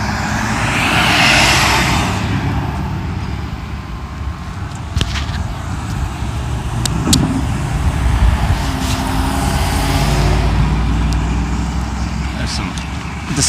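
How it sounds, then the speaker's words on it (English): Slow road traffic moves through a set of traffic lights in Carteret County, North Carolina, with passing cars making a steady roadside rumble and a swelling whoosh up close. "it's pretty slow traffic coming through these lights here"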